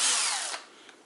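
A power drill with its clutch set around 8 drives a screw into a pocket hole in a clamped wooden cabinet face frame: one loud, close whirring burst that fades out within about a second, with no talk.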